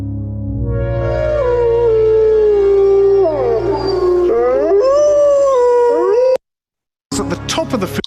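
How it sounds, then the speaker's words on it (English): Wolves in Yellowstone National Park howl in a recording played back, several long wavering cries overlapping loudly, then a brief silence and a final burst of howls. "The video just continues to play the sound of the wolves"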